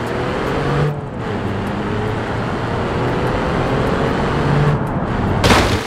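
A car in BeamNG Drive at full throttle, a steady loud engine roar with road noise that holds throughout, and a sharp crack near the end, with no speech.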